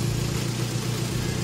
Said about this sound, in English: this is the last time you're going to hear this M102 running